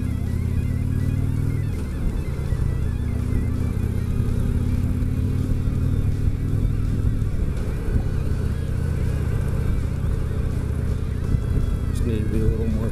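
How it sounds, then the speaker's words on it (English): A motorcycle rides along a road in fog, its engine a steady, close, loud drone with wind rush throughout and a slight shift in pitch early on; someone talks over it. "I'm out riding the bike in it"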